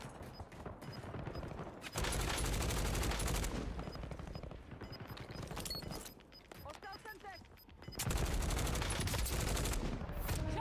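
Bursts of gunfire aimed at the player in Call of Duty Warzone, loud rattling volleys in several clusters with dense automatic fire and brief pauses between, set within game sounds and a talking voice.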